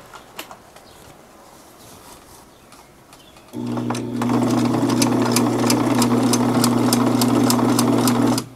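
A sewing machine stitches a upholstery seam on an old couch, starting with a few light clicks and handling noises, then running loud and steady with a rhythmic mechanical hum for about five seconds before stopping.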